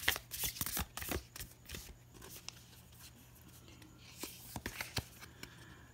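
Oracle cards being shuffled and drawn for a daily reading, a close run of crisp riffling and slapping flicks, busiest at the start, with quieter card handling after.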